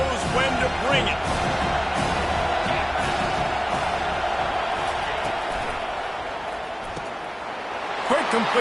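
Roaring football stadium crowd at an Alabama game, a dense, sustained wall of cheering and noise with scattered shouts, loud throughout while a commentator talks over it.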